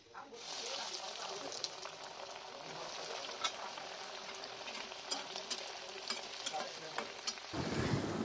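Chicken cutlets for homemade burgers fry one at a time in hot oil on a high flame, producing a continuous close hiss flecked with crackles and pops, with a sudden shift just before the end.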